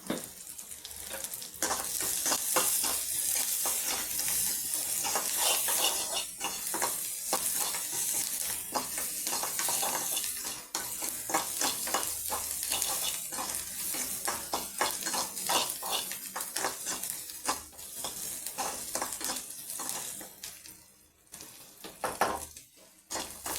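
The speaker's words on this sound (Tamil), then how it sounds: "வெங்காயம் வதங்கட்டும்." Onions sautéing in a pan with a touch of salt, a steady loud sizzle with frequent stirring scrapes and clinks of a utensil against the pan, continuing without talk.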